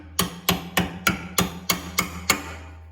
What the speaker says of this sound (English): Ball peen hammer, just a few love taps.